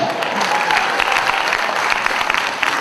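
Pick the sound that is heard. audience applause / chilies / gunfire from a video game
audience applause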